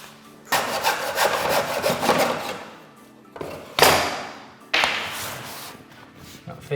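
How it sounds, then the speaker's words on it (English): A hacksaw blade cuts engineered wood flooring trim at 45 degrees in a small mitre block, a run of quick rasping back-and-forth strokes followed by two sharper bursts, close and clear with no talk. "I'm going to cut them at 45 by using a hacksaw blade and this little mitering block"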